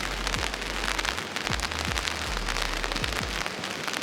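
Rain falls outside in a dense, even hiss near a cave entrance, joined by a few dull low thumps, with no talking.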